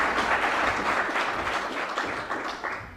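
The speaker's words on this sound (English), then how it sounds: "I hope you will greet him with your warm applause" Sustained applause from an audience welcoming a speaker at an Army lecture event, a dense steady wash of many hands clapping at once, fairly loud and continuous with no talking over it.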